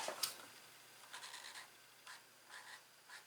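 Faint scratchy strokes of a double-line outline marker dragging across paper, coming in short bursts with quiet pauses between.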